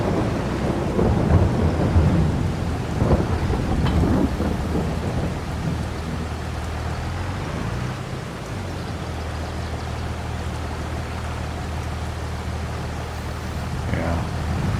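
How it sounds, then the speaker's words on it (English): Steady rain pours in Farming Simulator 22 on a Missouri farm, with heavy rumbling thunder swelling early and again near the end over a constant hiss of falling water; a voice speaks briefly in the background. "I really thought the rain was gonna stop by now."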